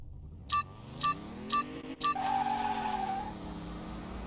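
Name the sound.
BMW car engine blubbing in video game Car Mechanic Simulator 21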